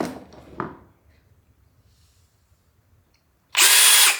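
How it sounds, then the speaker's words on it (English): A DeWalt power drill revs up suddenly and runs loud and steady near the end. Before that come a few faint handling knocks and a quiet room. "I got myself my very own DeWalt drill."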